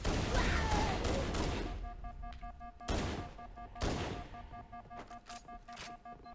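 Bursts of gunfire in Halo: Combat Evolved, with a heavy volley over the first two seconds and then a few separate sharp shots at moderate loudness, some with ringing tails and faint voices underneath.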